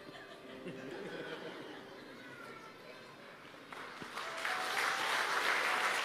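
A church congregation murmurs and chuckles, then breaks into swelling applause that grows louder toward the end.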